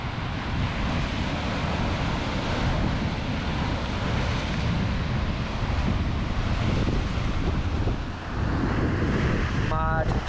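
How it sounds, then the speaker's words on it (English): Waves breaking against a rocky coastline with a sea cave on Scotland's east coast, a steady loud wash of surf mixed with heavy wind buffeting the microphone throughout. "if you get a high wave coming in, it properly sprays right up in the air"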